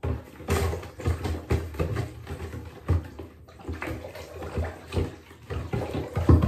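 A snorkel stirs green tie-dye water in a bathtub, making repeated swishing and sloshing surges. The splashes rise and fall in a loose rhythm close to the mic.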